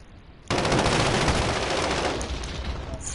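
Sudden loud burst of rapid gunfire in the survival game Rust, starting abruptly and rattling on densely for a couple of seconds before easing off slightly.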